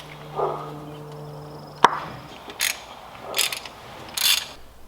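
Spark plug boots pulled and plugs worked loose on an old engine: a sharp metallic click near the start, then a few short ratcheting and scraping bursts spaced apart, close by and moderately loud, with no talk.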